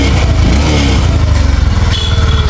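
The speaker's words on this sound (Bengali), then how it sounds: "এখন একদম স্মুথলি সাউন্ড হচ্ছে বাইকের" A Bajaj Discover 125 cc motorcycle engine runs up close, a loud low throbbing rumble that pulses evenly throughout the short stretch.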